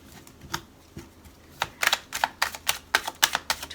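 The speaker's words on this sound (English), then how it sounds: "Okay, just going to shuffle these." Tarot cards being shuffled by hand, a few soft riffles at first, then a fast run of crisp, closely spaced card snaps and flutters, near and fairly quiet, with no talking.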